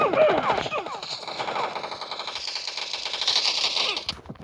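Gunfire in the mobile video game PUBG Mobile Lite, rapid automatic bursts rattling almost continuously through the clip, mixed with other game sounds and a voice talking in the background.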